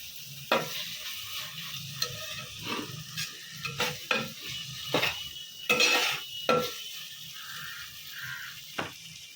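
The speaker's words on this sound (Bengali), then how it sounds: "আর ফুলকপিগুলো গ্রেভির মধ্যে দিয়ে একটু কষিয়ে নেব।" Cauliflower sautéed in gravy in a pan, with a soft sizzle underneath and intermittent spoon scrapes and clinks against the pan, some louder stirring strokes, close up.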